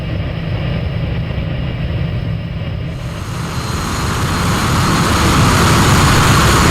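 A Hawker Hunter jet makes a quick fly-past during a low-level flight toward Valley, its broadband engine roar steady and then swelling louder as it draws near.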